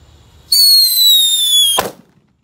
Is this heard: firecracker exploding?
yes